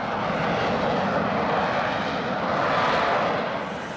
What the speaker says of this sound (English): The lift fan provides the aircraft with an additional vertical lift during takeoff and landing